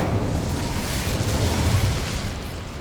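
A roaring burst of flame from the Incendio fire spell in Hogwarts Legacy, a loud, sustained whooshing blast that holds steady throughout.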